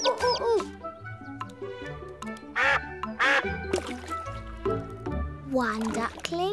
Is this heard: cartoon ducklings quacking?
yes